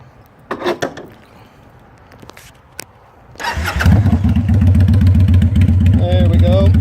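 A 1998 Kawasaki Vulcan 800 motorcycle is fired up nearby. A few faint clicks and knocks come first, then the starter cranks and the engine catches into a loud, steady idle.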